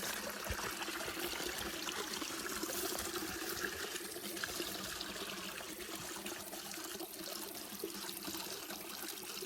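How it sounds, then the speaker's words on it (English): A small creek running through the end of a rural property flows steadily, a continuous close babble and trickle of water with no talk over it. "here's the little creek that that runs through the end of our, well, one end of our property"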